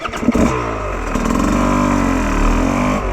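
A Fantic XE 300 enduro motorcycle revs hard on a motocross track with no traction control, its engine note rising and holding loud and close throughout.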